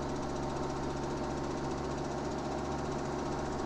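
A farm tractor engine runs at full throttle in Farming Simulator 2017, a steady, droning mechanical hum with a rapid rhythmic chug that holds an even, moderate level throughout.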